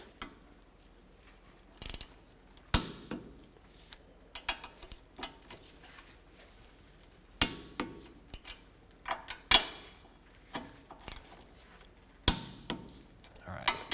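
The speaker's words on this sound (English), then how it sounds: "now we're going to torque them to 68 foot-pounds" Torque wrench tightening the front lower ball joint bolts on a 2005–2016 Toyota RAV4 to 68 foot-pounds, giving a series of sharp metallic clicks and clanks at irregular intervals, close up, with a faint voice in the background.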